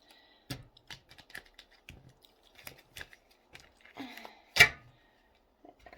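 Oracle cards being cut and shuffled by hand for a tarot-style reading, heard as soft, scattered papery flicks and taps with one sharper snap near the end, close and quiet with no talking.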